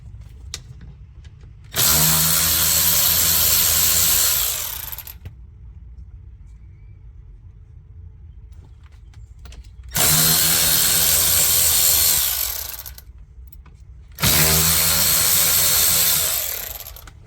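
A cordless power tool spins out T20 Torx bolts on a BMW 3 Series E90 steering wheel assembly: three loud, close bursts of several seconds each with quiet gaps, each winding down at the end.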